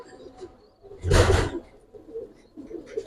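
Pet pigeons coo softly nearby in short murmuring bursts, with a louder flutter or shuffle near the start.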